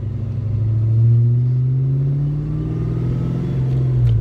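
Engine of a 1991 Ford Mustang GT rumbles from inside the moving car, a steady deep drone that swells slightly as the revs climb and settle.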